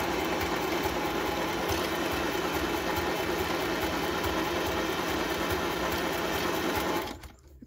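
A sewing machine runs a zigzag stitch in a steady, fast, continuous whir close by for about seven seconds, then stops abruptly, with no talking.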